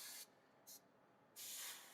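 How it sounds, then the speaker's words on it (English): Aerosol spray paint applied heavily to a model kit part in a darker purple, three separate hissing bursts: a long blast, a brief short puff, then another long sustained spray, close and alone. "I'm just gonna spray this darker purple"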